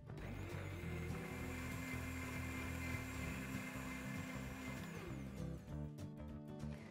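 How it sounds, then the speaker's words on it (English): A blender purees strawberries with coconut oil, giving a loud, steady whirring hum that runs unbroken for several seconds before cutting out near the end, leaving a few clattering knocks. "So everything in the blender together, and then just puree it,"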